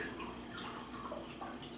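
Apple cider vinegar pours steadily from a bottle into a one-cup measure, making a continuous close splashing trickle with no talking.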